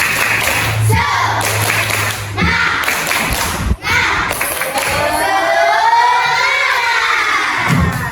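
Classroom of young children doing a rhythmic clapping chant during an ice-breaking activity, loud group shouting and claps close by, with a teacher's voice at the start and excited cheering throughout.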